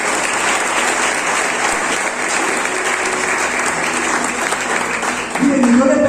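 A church congregation claps together during a worship service, a loud sustained burst of applause, with a voice rising over it near the end.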